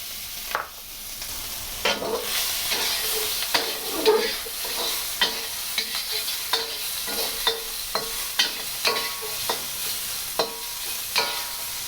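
Shrimp stir-fry in a hot pan for lo mein under a steady sizzle, punctuated by repeated sharp scrapes and clanks of a utensil tossing them, close and fairly loud.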